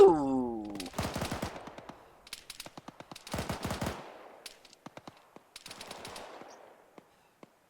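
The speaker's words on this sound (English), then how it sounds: "Hearing some machine gun fire." Machine gun fire in the video game Arma 3 rattles in several bursts of rapid shots, some close and sharp, others fainter and more distant, with short gaps and scattered single shots between.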